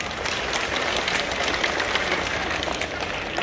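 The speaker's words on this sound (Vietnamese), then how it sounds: "Đề nghị chúng ta cho một tràng pháo tay." Students and guests applaud at a Young Pioneers coming-of-age ceremony for ninth graders at Tản Lĩnh lower secondary school in Ba Vì, Hà Nội, a dense, steady crowd clapping heard alone.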